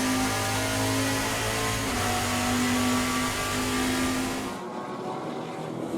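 A Trans Am race car engine roars steadily from onboard during a race at Portland, a loud sustained drone with a shifting pitch that drops away sharply near the end.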